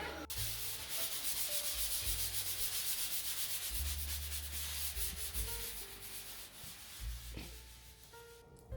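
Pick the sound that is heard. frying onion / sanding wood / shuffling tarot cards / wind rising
sanding wood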